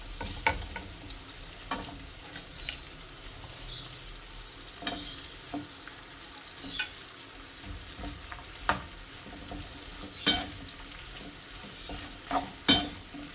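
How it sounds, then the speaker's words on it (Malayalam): Capsicum frying in a pan with roasted cashews while being stirred, a steady sizzle broken by repeated sharp scrapes and clinks of the spoon, close and fairly quiet, with no talking. "ഇതേപോലെ ക്യാപ്സിക്കം കൊടുക്കാം."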